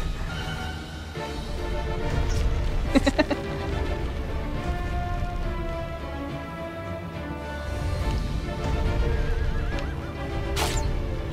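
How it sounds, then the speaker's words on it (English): A horse in the Shadow of the Colossus video game whinnies with a long, loud neigh over soft in-game ambience, accompanied by the light clop of hooves. "I'll need you, giant horse."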